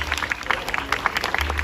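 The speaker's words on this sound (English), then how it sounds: "Let's give them another round of applause." An outdoor audience at a muumuu fashion show fundraiser at Queen Emma's Summer Palace claps for the Narcissus Queen and her court, a dense, steady patter of many hands throughout.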